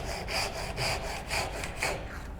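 A hand saw cuts a dovetail in wood, guided by a David Barron magnetic dovetail guide: about eight even back-and-forth rasping strokes, close and fairly loud, with no talking.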